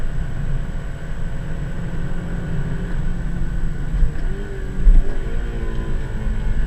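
Engine of a K-Series-powered FG2 Civic droning steadily from inside the car while driven fast on Trimmer Springs Road, with a couple of brief bumps and throttle swells near the end.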